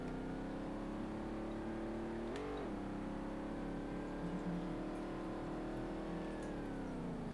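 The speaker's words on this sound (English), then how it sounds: "Why does this car sound like a V8 with a supercharger?" A video game car engine, a Mustang with a VR38DETT engine in Street Legal Racing Redline, drones steadily at high revs, with a brief pitch dip like a gear shift before it climbs again.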